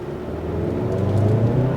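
A 2022 Hyundai Santa Cruz Limited pickup with a dual clutch transmission accelerates, its engine note rising steadily in a loud, close interior drone with no talking.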